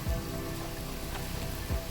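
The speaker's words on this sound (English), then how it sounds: "our cookout got rained out." Rain falls on a cookout setting as a steady, soft patter and hiss, continuous and fairly faint throughout, with a couple of low thumps and no speech.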